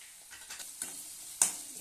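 Two eggs fry in a pan with pumpkin leaves while a spatula stirs them into bhujia. Soft scraping strokes come close over a faint sizzle, ending in one sharper scrape, with no voices.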